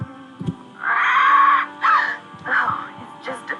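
Parrot squawking in the Nancy Drew: Curse of Blackmoor Manor video game, a few harsh, drawn-out screeches in short bursts over a faint game background.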